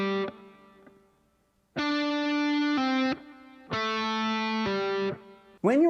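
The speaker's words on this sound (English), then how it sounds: "You play the notes from high to low and pull your finger away to make the next one sound." Distorted electric guitar notes played as pull-offs from high to low ring out in short sustained phrases separated by brief pauses, clear and close, with a slide at the end.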